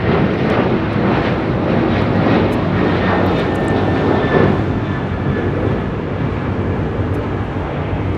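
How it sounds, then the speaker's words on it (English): A United Airlines Boeing 737-900ER takes off from LAX bound for Tampa, Florida, its engines a loud, steady broadband roar that holds close and strong throughout with only a slight swell and fade. "279 taking off to Tampa, Florida on a 737-900 ER"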